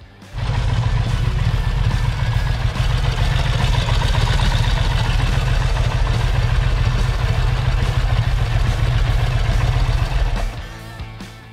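An Egli-Vincent motorcycle engine catches and runs, a loud, close, steady lumpy throb with mechanical clatter, holding an even idle for about ten seconds before it is cut.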